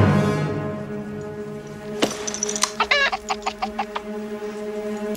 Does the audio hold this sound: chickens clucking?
yes